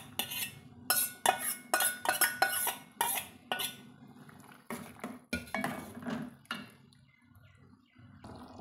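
A utensil scrapes and clinks against a metal pot of okra kara kuzhambu curry in a quick series of stirring strokes, then quieter, slower scraping follows.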